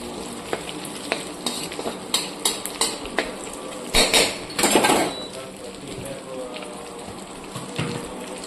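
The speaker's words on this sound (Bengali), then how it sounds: "এতে আমি ফোড়ন হিসেবে দিয়ে দিচ্ছি একটা তেজপাতা, শুকনো লঙ্কা, মৌরি, জোয়ান আর হচ্ছে গোটা জিরে" Bay leaf, dry red chilli, fennel, ajwain and whole cumin sizzle in hot oil in a pan, a steady crackling hiss broken by clinks and scrapes of a stirring spoon and a few louder bursts midway.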